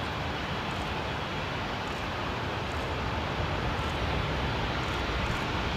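An airliner on final approach to Sydney Airport, a steady, loud broadband engine roar that holds for several seconds with no talk over it.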